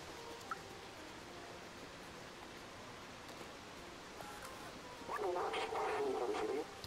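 A steady, soft rush of falling water with trash falling in a video game waterfall, with a brighter shimmering tonal layer rising over it near the end.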